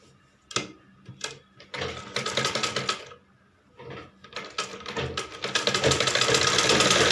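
A sewing machine stitches blouse fabric in loud rapid bursts, stopping and starting several times, with longer steady runs of rattling stitching near the end and no talking.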